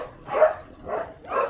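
Dogs in kennels set up inside converted caravans at an animal shelter bark, three muffled barks spaced about half a second apart, moderately loud and somewhat distant.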